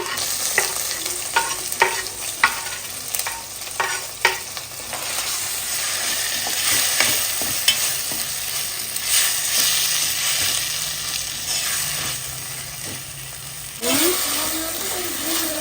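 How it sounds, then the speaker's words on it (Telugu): Tomatoes frying in ginger garlic paste for gongura chicken, a steady close sizzle with a run of sharp spatula scrapes and taps early on, then louder frying toward the end, no talking. "అల్లం వెల్లుల్లి పేస్ట్ వేగగానే టమాటోస్ వేసుకోవాలండి"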